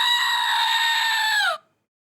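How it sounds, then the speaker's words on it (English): A screaming goat novelty toy lets out one loud, sustained bleating scream for about a second and a half, close up and alone, ending abruptly in silence. "Get a damn it doll or a screaming goat."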